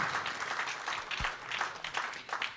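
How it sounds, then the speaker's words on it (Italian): At a Veneto Paralympic sports gala, the audience applauds table tennis player Michela Brunelli, a lively, fairly close burst of many hands clapping that swells and dips in waves. "Facciamo un applauso a Michela Brunelli."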